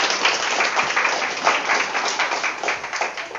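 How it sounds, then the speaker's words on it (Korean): Steady applause from a seated audience at a real estate agents' book club lecture, dense clapping at an even level throughout with no voices over it. "다시 한번 박수 부탁드리겠습니다."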